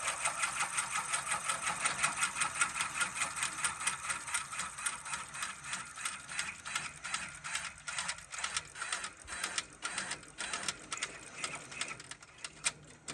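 An embroidery machine sews a satin stitch over zigzag underlay on a fitness logo, making a rapid, steady mechanical clatter of needle strokes, close and even throughout, with no talk.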